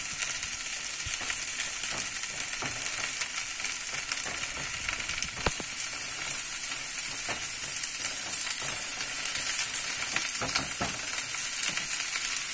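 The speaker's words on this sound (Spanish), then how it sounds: "Sin dejar de mezclar también nuestra espinaca." Flour and spinach being stirred in a cooking pot give a steady sizzling, scraping sound, with occasional sharper clicks of the utensil against the pot.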